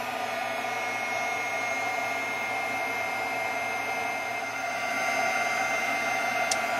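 A heat tool blows hot air over embossing powder on a paper rose craft piece, giving a steady, loud, hair-dryer-like whoosh that runs without a break for the whole stretch.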